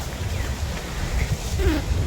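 Steady wind rushes and buffets outdoors, a low rumbling roar that stays loud throughout without letting up.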